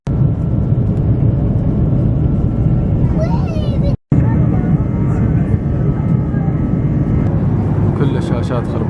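A steady, loud rumble of jet engines fills an airliner cabin throughout, broken by one brief cut, with a faint voice and small cabin noises over the drone.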